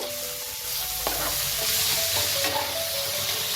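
Red amaranth greens with green chillies frying in a pan are stirred, producing a continuous close sizzle with scraping and stirring knocks throughout and no talking.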